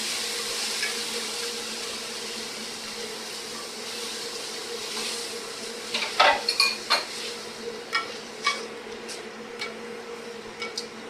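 Beaten eggs go into a pan of sizzling frittata vegetables, a steady hiss of frying followed by a series of sharp clanks and scrapes of a utensil against the pan; close by, with no one talking.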